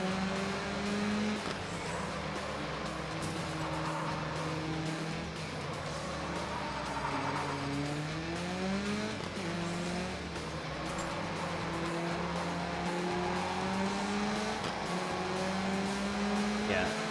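Race car engines from the rally video game Gravel, a continuous droning motor that rises and falls in pitch through gear changes and acceleration, with other cars faintly around and a commentator talking over it.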